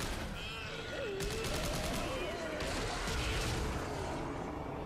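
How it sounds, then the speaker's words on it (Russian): Bursts of gunfire in the video game Dead Space 3 as a monster's claw is shot off, a rapid volley over busy game effects and a wavering tone. "Отстреливаю ему клешню."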